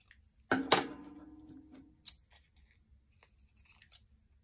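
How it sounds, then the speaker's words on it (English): Scissors trim a napkin off a strip of washi tape, one close crisp snipping cut followed by a softer rustle of paper and a faint click, then near quiet. "Now I'm going to trim the napkin off."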